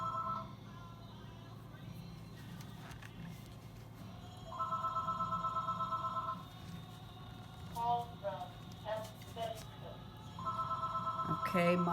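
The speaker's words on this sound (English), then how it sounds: "Sorry about the phone ringing," A telephone rings in repeated bursts of two-tone trilling, loud and near, during a painting session, with a person speaking quietly between and over the rings.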